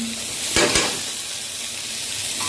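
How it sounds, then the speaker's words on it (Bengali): Mutton fries in oil in a pan with a steady, close sizzle, broken by two quick scraping stirs of a spatula and another near the end. "মাটনটা একবার নাড়াচাড়া করে দিই"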